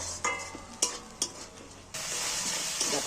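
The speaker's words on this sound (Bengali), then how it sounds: "টমেটমটা অনেকটা ভাজা ভাজা হয়ে গেছে কষানো হয়ে গেছে" Tomato and spice masala sizzles in a pan for an egg curry, broken by three sharp scrapes of a spoon stirring, then a louder, steady hiss of frying takes over.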